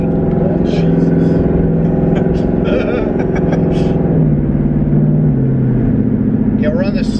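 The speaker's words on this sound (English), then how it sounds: "So right now it sounds like we're driving around with like open headers because the wastegates are dumped" A 2019 twin turbo Mustang GT running race gas and rear slicks, wastegates dumped open, makes a loud, steady droning rumble like open headers, with people talking over it throughout.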